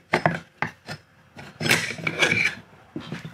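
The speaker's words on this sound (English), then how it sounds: "So we can take the whole shaft out." A metal shaft being slid out of an electric motor with a permanent-magnet rotor and end bearing, giving a few short scraping knocks followed by a longer grinding rasp of metal rubbing, close and fairly loud.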